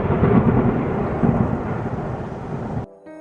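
Heavy thunder rumbles in a deep, loud, continuous roll for nearly three seconds, close and booming, then cuts off abruptly into near silence.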